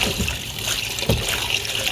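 Brief splashing and trickling of water as something is dunked and wetted, close and fairly loud, with a small splash midway.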